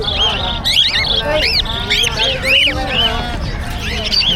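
Many caged birds at a pet market chirp, squawk and whistle together in a dense, busy chorus, with rising and falling calls overlapping throughout and people talking faintly in the background.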